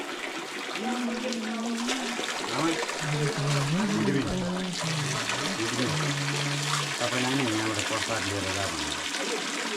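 Cold water flows and trickles at a hillside temple on Shivapuri near Kathmandu, a steady splashing stream heard beneath people talking nearby.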